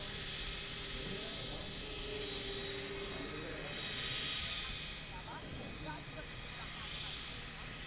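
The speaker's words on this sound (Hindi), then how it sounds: "और ये देखिए उनका हेलीकॉप्टर जो कि" A chief minister's helicopter at Jaipur airport gives a steady engine and rotor drone, moderately distant and unbroken throughout, with no clear speech over it.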